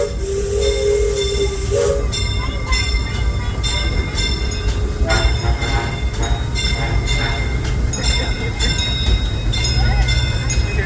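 The Disneyland Railroad steam train rolls along, its loud steady rumble and hiss joined by clanking wheels and a brief whistle-like tone at the start, while a recorded narration plays over it.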